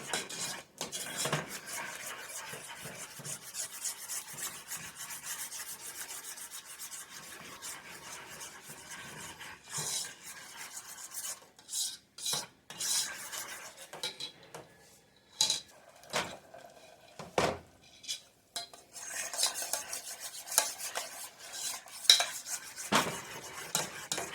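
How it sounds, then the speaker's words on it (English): A spoon stirs a thickening sour cream sauce in a pan, keeping it below a boil for a bacon-wrapped chicken dish, giving a steady scraping, rubbing clatter of utensil against metal that runs continuously with brief pauses and sharper clinks. "So I'm just going to keep stirring that."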